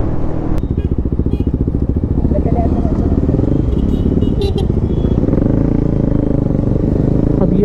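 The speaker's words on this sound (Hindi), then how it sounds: "इंजन हो चुका है गर्म और एग्जॉस्ट भी हो चुका है गर्म, तो भाई आवाज भाई बहुत ज्यादा सही आ रही है" Warmed-up motorcycle exhaust from a KTM Duke 250 or Bajaj Pulsar NS 200 on a city ride, a loud, close, steady throbbing engine note throughout with a brief horn toot and traffic clatter behind it.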